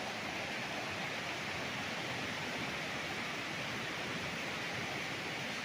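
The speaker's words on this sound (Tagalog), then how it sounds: "Yan ang ilog niya." A river at a resort in Cavinti, Laguna gives off a steady, broad rush of flowing water, even and continuous, with no voices.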